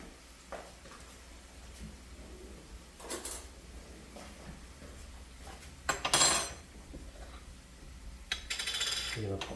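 A metal spoon clinks against a pan in a home kitchen, a few separate clattering knocks spread across a quiet background, the loudest burst near the middle.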